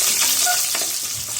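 Small onions with green chillies and curry leaves sautéing in a pan, a brief dense sizzle with a faint stirring scrape, close and steady, no talking.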